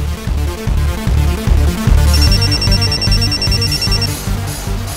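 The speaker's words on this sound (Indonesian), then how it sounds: "Aku mau telepon Andi dulu" A ringing telephone as a call is placed in an Indonesian TV drama, heard as a repeated high electronic ring pattern sitting under loud, busy background music, with no one speaking.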